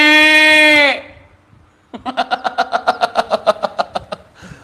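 A voice imitates a water buffalo call, starting with a long, low moan, then a pause, then a quick series of pulsing grunts, loud and close.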